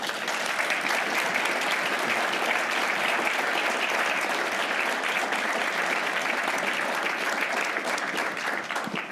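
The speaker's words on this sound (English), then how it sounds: "Perhaps a round of applause." Audience applause at an agricultural leaders' dialogue event, a dense, steady wash of many hands clapping that holds loud and even for the whole stretch without voices.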